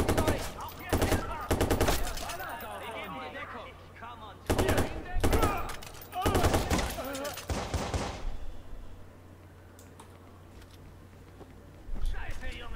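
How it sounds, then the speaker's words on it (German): Bursts of automatic gunfire in Watch Dogs, a gang hideout shootout, with loud rapid volleys at intervals and heavier shots near the end, separated by stretches of talk and quieter background. "Was auch immer die gerade schießen"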